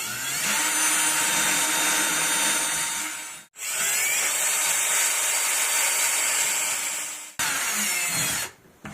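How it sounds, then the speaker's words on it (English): A power drill whines steadily at high speed, boring a hole for wall anchors in two long runs separated by a brief pause, with a short final burst. "So you want to drill your hole."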